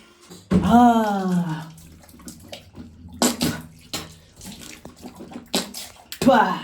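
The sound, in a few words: washing face with tap water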